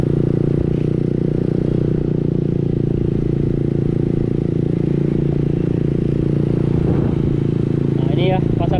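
A motorcycle passes along a busy street beside the bird market in Denpasar, Bali. Its close engine makes a steady, loud drone with street clatter and scraping throughout.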